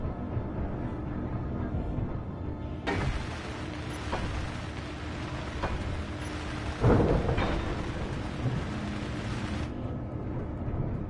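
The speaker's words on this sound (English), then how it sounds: "That sounds like thunder." Thunder rumbles through a Space Engineers game on PS5, a broad low roll that swells in partway through, holds for several seconds with a few sharper cracks and a louder peak, then cuts off.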